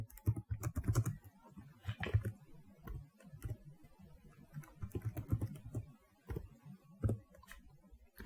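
Typing C code on a computer keyboard, a steady run of clattering keystrokes with brief pauses, close and alone without any talk.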